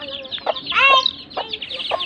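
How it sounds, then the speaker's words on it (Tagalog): Several hens cluck close by, giving short scattered clucks and one louder drawn-out squawk in the middle, over quiet background. "Ayan ang mga inahin."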